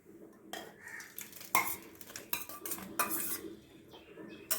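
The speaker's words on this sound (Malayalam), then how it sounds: "ഇപ്പം നമ്മുടെ പരിപ്പൊക്കെ വെന്തിട്ടുണ്ട് ഇത് നമുക്ക് ഉണ്ടാക്കാനുള്ള പാത്രത്തിലേക്ക് മാറ്റാം" Cooked lentils for a rice-flake payasam are scooped and moved into a cooking pot, with sharp metal spoon clinks and scrapes against the vessel in short, irregular bursts at close range.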